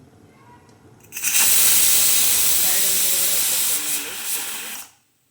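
A pressure cooker cooking cucumber-tomato dal vents with a loud, continuous hiss of escaping steam that holds steady for several seconds before stopping abruptly.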